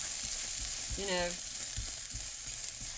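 An egg fries in a hot pan, a close, steady sizzle throughout with a brief scrape as it is flipped partway through.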